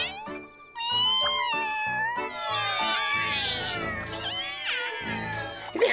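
A cartoon cat meows and caterwauls in a long, loud, wavering series of cries, close and expressive, from an animated family show.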